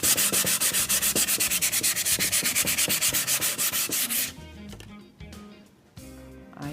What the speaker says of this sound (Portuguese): Depois que secou, eu venho com uma lixa, vai fazer um barulhinho, e vou lixar, para desgastar bem essa peça.